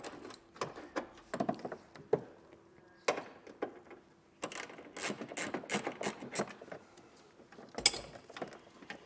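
A ratchet loosens a bolt on a 2022 Toyota Sienna during a tail light converter installation, giving bursts of quick close clicking strokes separated by short pauses.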